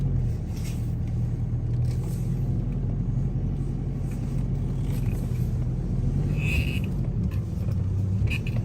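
A car crawls along an icy winter road in Norway in four-wheel drive, its engine a steady low rumble throughout with faint tire and road noise, and nobody talking.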